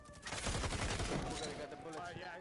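Grenades and gunfire in a competitive tactical shooter match, a dense close-packed fusillade of shots and blasts with a voice talking over it.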